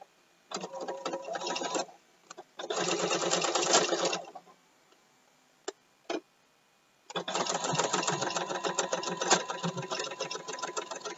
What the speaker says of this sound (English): I'm sewing 2 sides of Velcro